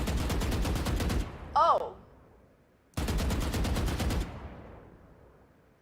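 Rapid automatic gunfire in a target-practice video game, two loud sustained bursts from holding the fire button, separated by a short pause with a brief electronic chirp and a spoken exclamation.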